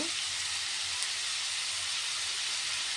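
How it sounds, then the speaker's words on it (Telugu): Sliced onions fry in a pan for an egg curry, giving a steady, even sizzling hiss that holds for the whole stretch without pauses. "అదిగండి వేగుతున్నాయండి ఉల్లిపాయలు అయితే"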